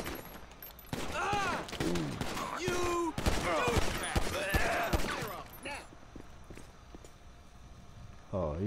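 Rapid gunfire rattles in the LSPDFR police mod for GTA V, loud and close in dense bursts over the first six seconds, with someone talking over the shots before it thins to quieter background.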